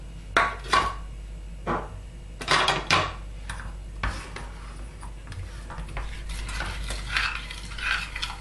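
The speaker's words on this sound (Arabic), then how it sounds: "نبداو نضيفوا عليها الشيكولا وقعدي تخلطي حتى تذوب هذيك الشيكولا" A spoon scrapes and clinks against a bowl in irregular strokes, stirring chocolate into warm cream as it melts; soft wet swishing between the louder taps, no talking.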